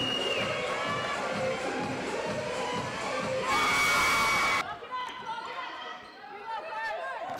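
A women's professional basketball home game in a packed indoor hall, with Caledonia Pride playing before a sold-out Scottish crowd. A ball bounces steadily amid loud crowd chatter, cheers and children's shouts, then the noise drops to a quieter murmur with voices.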